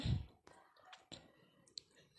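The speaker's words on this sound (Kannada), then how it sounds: "ಇನ್ನೊಂದು ಸತಿ ಕ್ಲಿಕ್ ಮಾಡೋಣ" A few sharp, faint computer mouse clicks sound in a quiet room while someone uses a phone or computer, with soft speech around them.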